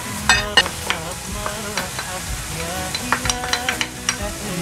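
Peppers frying in a pan for an aubergine gratin give off a steady sizzle, with sharp clattering stirs of a utensil against the pan recurring throughout and no voices.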